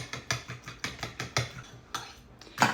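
Two eggs and pumpkin puree are stirred together in a bowl, a utensil clinking against the sides in a steady rhythm of about a dozen close, moderately loud strokes with no talking.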